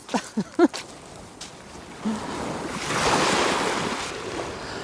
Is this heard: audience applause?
no